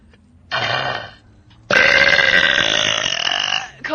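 Two loud, close burps from a person, a short one followed by a longer, drawn-out belch that fills most of the moment with a rough, buzzing tone.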